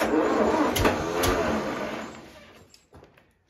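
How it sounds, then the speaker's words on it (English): A tractor starter motor cranking over, powered by touching the battery cable to the starter terminal, a loud steady whirring grind that fades out after about two seconds and ends with a few faint clicks. "It's cranking over."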